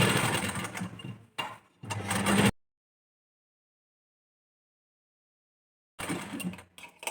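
A sewing machine stitches lace onto the edge of a blouse in two short bursts of rapid whirring, then a long silence before the motor runs again near the end.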